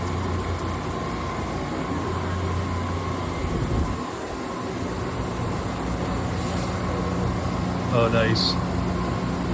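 An Okuma LT3000EXMY CNC lathe from 2020 runs simultaneous machining, a steady broadband machine drone and hum with brief higher tonal whines near the end, while a voice briefly speaks.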